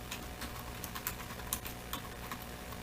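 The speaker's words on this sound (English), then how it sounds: "I'm typing a random description here" Rapid, light keystrokes on a computer keyboard as a random product description is entered, an uneven run of close, crisp clicks with occasional sharper taps and no talking.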